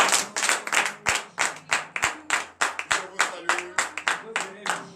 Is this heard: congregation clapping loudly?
yes